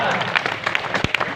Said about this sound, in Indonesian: Tepuk tangan itu gunanya untuk menghilangkan ngantuk.